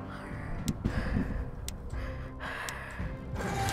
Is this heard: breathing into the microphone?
yes